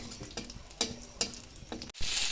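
Bay leaf, a whole dried red chili and two cardamom pods sizzle in hot oil for tempering, with a steady frying crackle broken by a few stirring scrapes and a louder burst of hiss at the end.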